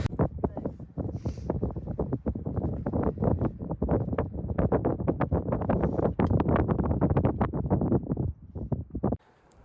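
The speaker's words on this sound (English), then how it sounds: "we had to get on the other side of those trees because the wind was insane" Strong, gusty wind at a Glacier National Park overlook near Logan Pass, battering the microphone in loud, rapid buffets and rumbles until it cuts off abruptly near the end.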